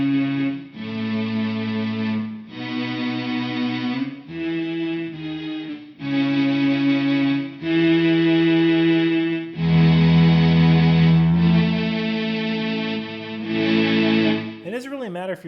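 An electric guitar played through an Electro-Harmonix Mel9 pedal on its strings setting gives sustained, swelling string-like chords that change every second or two, loud and alone, with a final pitch-bending sweep.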